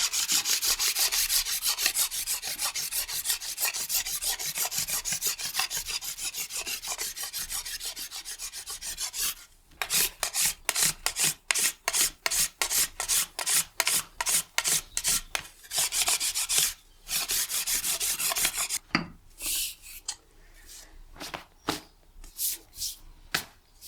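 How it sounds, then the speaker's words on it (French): Peeling and cleaning willow rods for basket handles makes a scraping, rasping rub along the wood, first a long continuous stroke, then a run of quick repeated scrapes broken by short pauses, close and fairly loud. "j'aime bien peler pour faire les anses, nettoyer le bois"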